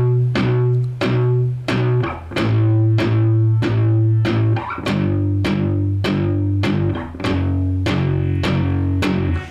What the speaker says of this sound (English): I want you to apply that palm muting technique now to the little power chord sequence that we just learned.